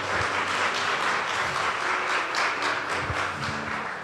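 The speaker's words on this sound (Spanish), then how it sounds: "Dale un fuerte aplauso al Señor." A church congregation claps together in a sustained round of applause, a dense steady patter with no talking over it.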